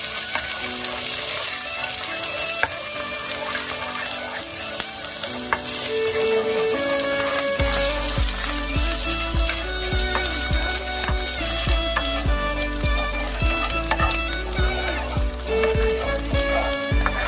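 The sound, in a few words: egg frying and being stirred into scrambled egg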